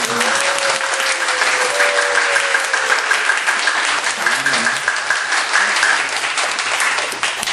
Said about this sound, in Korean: 자, 격려의 박수를 하겠습니다.